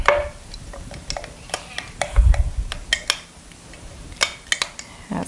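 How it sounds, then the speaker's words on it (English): A spoon stirs oatmeal inside a glass jar, giving a series of sharp, irregular clinks and scrapes against the glass with a soft thud partway through, close and fairly quiet with no talking. "Now I'm going to stir this up a little bit more."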